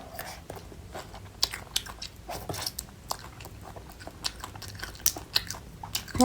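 Boiled noodles are eaten up close, with repeated wet bites and chewing sounds in an irregular rhythm, fairly loud and alone without talk.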